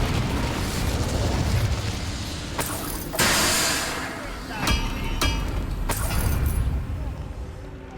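In the Hogwarts Legacy video game, an Incendio fire spell erupts in a loud, roaring burst over dense battle noise, with several sharp cracks and whooshes following through the fight.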